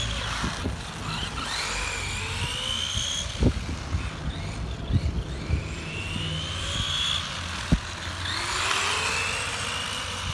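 An RC car with a 540 silver can motor, a 15-tooth pinion and Avanti wheels runs steadily, its motor whine rising and falling alongside scattered sharp knocks.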